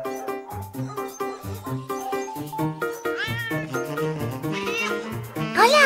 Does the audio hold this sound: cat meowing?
yes